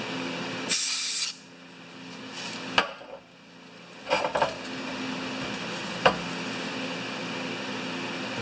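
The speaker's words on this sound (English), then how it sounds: "I'm trying to get carburetor to spray out that little hole." Carburetor cleaner spray hisses in a burst for about half a second near the start, followed by a few short metallic clicks and knocks from working on the carburetor.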